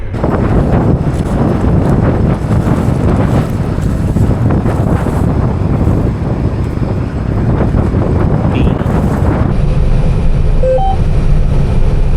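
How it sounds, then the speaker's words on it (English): Heavy wind roaring across an open farm field at bean harvest, buffeting the microphone in a loud, steady, low rumble that barely lets up for the whole stretch. "Got a heavy wind, so it should get things dried down pretty well."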